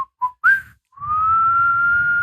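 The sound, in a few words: person whistling a straight whistle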